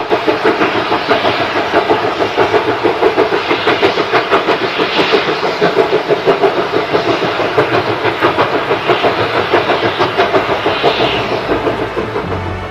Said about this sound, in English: here's Thomas the tank engine on a normal working, past the iconic signal seen on Toby's branch line